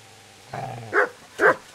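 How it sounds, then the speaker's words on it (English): Dog in Kingdom Come: Deliverance barking twice in quick succession, loud and close, after a brief low growling rumble, with no talk over it. "Get away, you mutt! Get away, you beast!"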